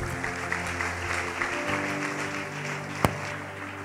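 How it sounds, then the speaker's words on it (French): A church congregation applauds and cheers in a steady wash of clapping under music, with one sharp clap or knock standing out near the end. "On va acclamer très fort"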